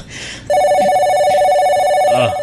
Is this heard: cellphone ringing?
yes